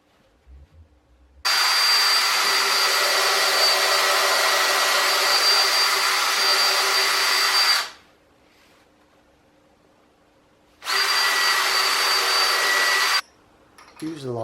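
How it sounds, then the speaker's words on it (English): A power drill pre-drilling a wooden workbench leg whines continuously for about six seconds, pauses, then runs again for a couple of seconds, loud and close. "Once glued, set the leg in place and pre-drill."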